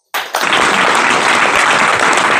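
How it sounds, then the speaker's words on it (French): Applause from an audience for a minister breaks out sharply and continues as dense, steady, loud clapping from a full crowd. "On peut l'applaudir, on peut applaudir monsieur le ministre."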